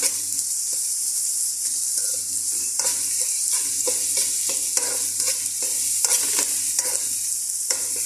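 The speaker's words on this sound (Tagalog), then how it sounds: "Luto-lutoin natin yung ating bawang para lumabas ang aroma." Garlic sautéing in a pan for shrimp with rice makes a continuous bright sizzle, with repeated scraping and tapping from a spatula stirring throughout, close and fairly loud, and no talking.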